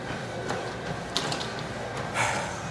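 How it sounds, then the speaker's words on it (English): A gym weight machine's mechanism working through a set at a lowered weight of 146, giving soft repeated clanks, creaks and ratcheting clicks, close and steady with no voices. "I lowered the weight from 167 to 146 on this machine"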